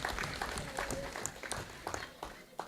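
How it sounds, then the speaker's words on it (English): Scattered, faint audience clapping at a women's political party convention, with sparse uneven claps spread across a short stretch rather than a full, dense ovation. "Give them a round of applause again"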